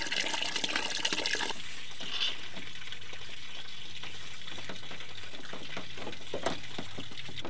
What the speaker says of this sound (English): Now when that water is running perfectly clear, you know that it's completely flushed out.